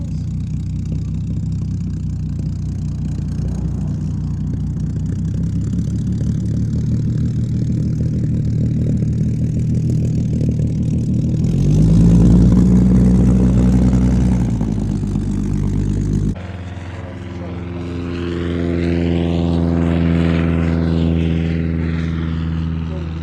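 Seafire 17 propeller fighter with Navy Wings at the Shuttleworth Fly Navy airshow 2022, its piston engine droning loudly and steadily, swelling as it passes, then pulsing and rising again.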